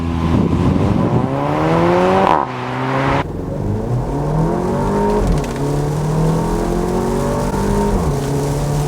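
A 2017 Porsche Macan with its base four-cylinder turbo engine in sport mode accelerates hard from 0 to 60, the engine rising sharply in pitch through several gears with clear shift breaks between climbs.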